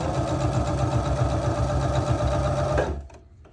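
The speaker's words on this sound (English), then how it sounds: "Let me just go ahead and sew this real quick" A sewing machine stitches around the edges of an altered playing card frame, running with a steady, loud, close mechanical whirring hum that cuts off abruptly near the end.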